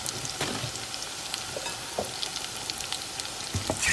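Plantain slices fry in hot oil in a pan with a steady, dense sizzle and crackle throughout. Occasional light pops and scrapes come through, up close with no talking.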